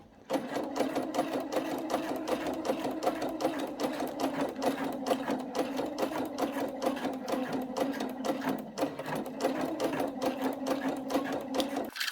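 Sewing machine doing free motion embroidery on a hooped lace bow, a steady fast clatter of stitching that runs unbroken and close throughout, with no talk.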